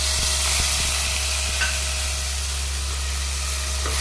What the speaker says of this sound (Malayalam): അതിലേക്ക് നമ്മൾ തക്കാളി ഇടുന്നുണ്ട്.